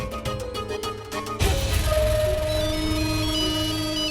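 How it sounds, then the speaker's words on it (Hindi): A mobile phone ringtone plays a repeating electronic melody, loud and close, over busy background music with a sudden shift partway through. "मेरा फोन बज रहा है"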